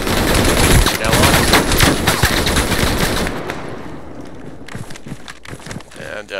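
Video game AI enemies on rooftops fire off heavy bursts of gunfire, loud and dense at first, then thinning into scattered distant shots as someone talks over the action.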